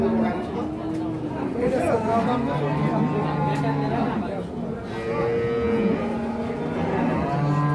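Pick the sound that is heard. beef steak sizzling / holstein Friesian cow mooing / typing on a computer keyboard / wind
holstein Friesian cow mooing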